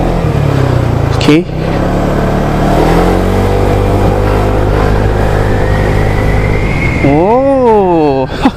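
A QJMOTOR AX200S motorcycle runs steadily close by on a test ride, its engine note rising and falling as it revs, with a person speaking briefly over the engine at the start.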